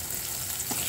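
Pork skin fries in a small splash of oil, giving a steady, soft sizzle with faint crackles throughout one unbroken stretch, nearby and alone.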